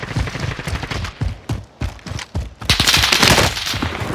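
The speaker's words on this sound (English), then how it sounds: "Receiving hostile fire." Rapid bursts of automatic machine gun fire in Call of Duty Modern Warfare Warzone on Rebirth Island crackle in short clusters, then swell into a louder, denser sustained volley near the end.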